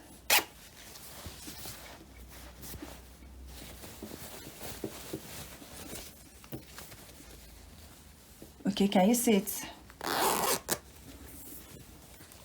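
An invisible zipper drawn along fabric on a sewing project, producing a short burst of quick ratcheting zip sound followed by a second brief pull, close by, after someone speaks briefly.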